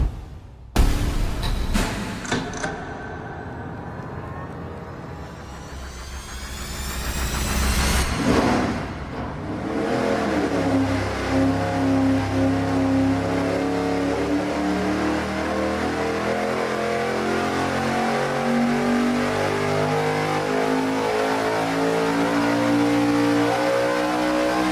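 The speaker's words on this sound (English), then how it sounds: "Our first run on this engine is going to be bank-to-bank." A V8 engine on a dynamometer runs bank-to-bank fuel injection, starting with a sharp crank and catch, then revving up through a steady loud pull at high, sustained load, with no talking.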